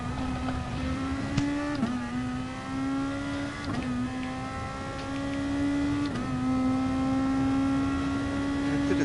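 A Honda NSX race car engine in a racing video game holds a steady high whining drone with several brief gear-shift dips, continuous and fairly loud, with no talk.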